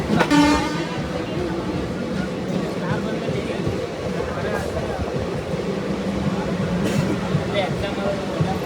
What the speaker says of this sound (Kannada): ಹಾಂಕಿಂಗ್ ನೋಡ್ರಿ ಯಾವ ಥರ ಕೊಡ್ತಾ ಇದ್ದಾನೆ ನಮ್ಮ ಟ್ರೈನ್ದು